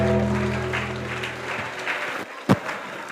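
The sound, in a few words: audience applause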